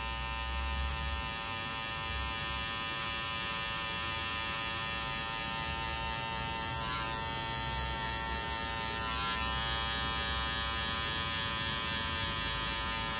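Electric hair clippers cutting a mid fade haircut give off a loud, steady high-pitched buzz that runs without a break, with slight changes in tone as the blade moves through the hair and no voices.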